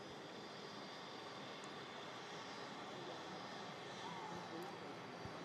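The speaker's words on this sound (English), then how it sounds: "Taxiing out, going to cross runway 23 right" A Jet2 Airbus A330 airliner taxis out toward the runway at an airport, its engines giving a steady, distant roar that holds even throughout.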